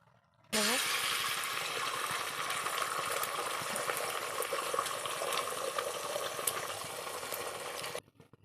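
Pasta boils in a pot of water, a steady bubbling hiss that starts abruptly, runs evenly and close for several seconds, then cuts off near the end.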